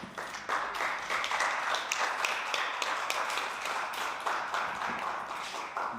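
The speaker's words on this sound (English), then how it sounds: "A big round of applause once again" Sustained applause from an audience at a master class event, dense rapid clapping filling the whole stretch at steady loudness.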